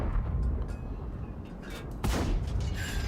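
A single tank cannon shot in World of Tanks fires with a sharp, loud boom over a steady rumble of engine and battle noise.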